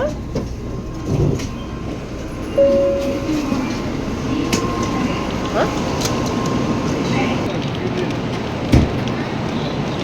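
A bullet train in Japan rumbles steadily as it slows to a stop at a station, with clanks, a short tonal beep and faint voices in the background.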